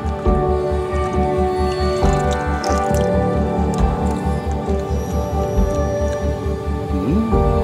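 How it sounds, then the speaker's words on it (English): Spring water dripping and trickling outdoors on a coastal walk in Guernsey, a close, steady run of rhythmic drips and splashes that continues throughout with no talking. "Let's try the spring water then."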